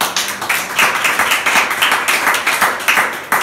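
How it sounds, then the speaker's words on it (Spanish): A church congregation claps together in a loud, rhythmic burst, the hand claps falling in a roughly even beat throughout, close and clear with no talking over them. "Denle un aplauso."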